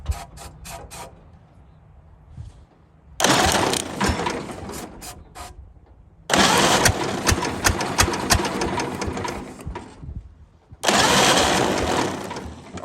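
A 1929 Ford Model A engine running rough on a single firing cylinder, a clattering mechanical rumble that starts and stops in three loud bursts with quieter gaps between, no talk.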